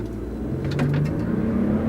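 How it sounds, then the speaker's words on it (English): Toyota turbocharged pickup with 389 horsepower accelerating down a drag strip, a steady close engine roar heard from inside the cab, rising slightly in intensity over a couple of seconds. "The turbos are kicking in. It's got plenty of acceleration."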